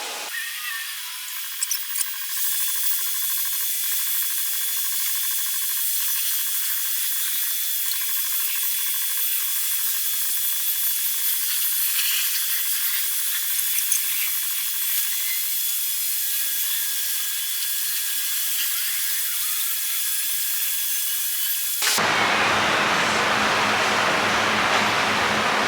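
Steady hiss of a spray gun laying clear coat on a custom wooden shelf, continuous for over twenty seconds, then cut off by a louder, broader noise near the end.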